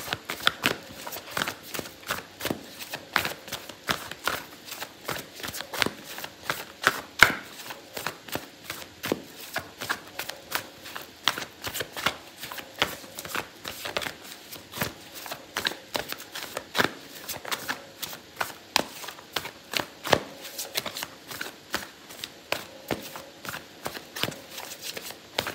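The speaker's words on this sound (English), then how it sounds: "I'm going to pull out an oracle card for you" Oracle cards being shuffled for a tarot reading, with quick riffling clicks and soft slaps repeating steadily at close range for a long stretch.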